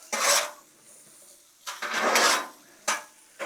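A metal spatula scrapes and tosses seasoned, buttered potatoes on a Blackstone flat-top griddle. Three separate bursts of scraping and clatter come up close and loud, with short quiet gaps between them.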